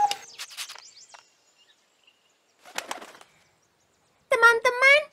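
A cartoon baby bird calls with quick high chirps at first, then after a pause a loud pair of shrill, tonal cries, each standing alone.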